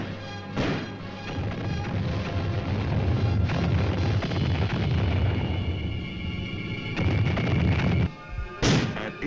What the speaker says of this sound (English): At H-5, the artillery opens up. Along with mortars from the combat support company.